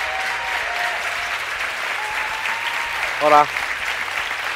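Steady audience applause at a Pull & Bear meet-and-greet event for two riders, a continuous crowd wash with a brief spoken greeting near the end.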